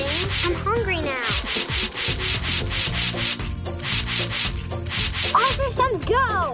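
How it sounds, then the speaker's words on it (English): A floor stain is rubbed away in a Masha and the Bear cartoon: quick, rhythmic scrubbing strokes repeat steadily and up close, with brief squeaky cartoon vocal sounds near the start and end. "You need to rub now, and the stain will disappear."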